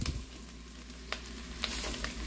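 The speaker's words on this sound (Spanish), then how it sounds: "Les removemos un poquito para que se empiecen a freír poquito también" Zucchini and steak frying in a pan while being stirred, a constant close sizzle with a few sharp scraping clicks from the spoon, no voices.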